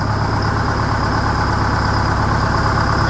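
A Detroit 8V71 diesel in a 1969 Hayes 6x6 truck idles loud and close, revived after 14 years parked, with a steady, even rumble that holds without revving throughout.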